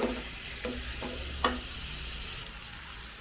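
Onions being stirred as they soften in a pan, a soft steady sizzle with a few sharp scrapes of the spoon against the pan, close and continuous, with no talking.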